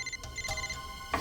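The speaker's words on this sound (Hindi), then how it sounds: "फोन कहां बज रहा है?" A mobile phone ringing inside a closed drawer, a muffled electronic ringtone with a few short bursts, faint and indoors.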